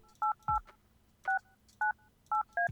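Telephone keypad tones from the video game Kathy Rain, six short, clean dialing beeps in an uneven rhythm, fairly quiet with faint clicks between them and no talk.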